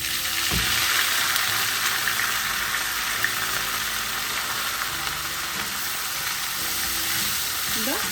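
Curry leaves, onion and green chili frying in a pan for a coconut fish curry, a loud, dense, unbroken hiss and crackle with a few faint stirring knocks.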